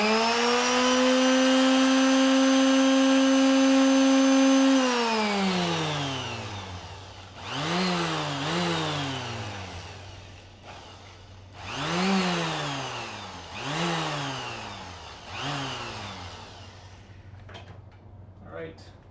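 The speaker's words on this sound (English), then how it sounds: "we're going to take that off with the power sander" Power sander working a wooden number 3 cut-out, a steady high whine for about five seconds, then several shorter bursts that rise and fall in pitch as it bears down on the wood, with talk faintly in the background.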